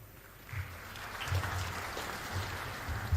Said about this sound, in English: A round of applause for Professor.